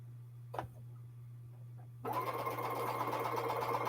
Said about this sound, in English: I'm just going to keep sewing these blocks until I run out of fabric.